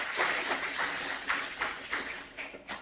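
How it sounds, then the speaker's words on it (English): Audience applause at a judicial installation ceremony swells and fades in soft waves, a diffuse patter of many hands with a few sharper claps, heard at moderate distance. "I think they all deserve a round of applause"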